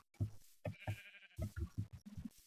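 Blocky sheep in the Minecraft video game bleat in a rapid run of short, nasal baa calls, one after another with brief gaps, fairly close and clear, with no talking over them.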